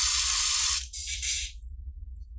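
Spray gun being cleaned as a can of gun cleaner forces dirty paint through it, giving a loud steady hiss of spray for under a second, then a second burst before it cuts off, leaving a low hum.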